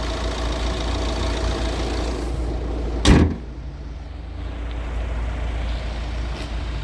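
A 2021 Nissan X-Trail with a 1.6-litre 130-horsepower diesel engine idles with a steady, loud rumble, broken midway by a single sharp clunk like a door shutting.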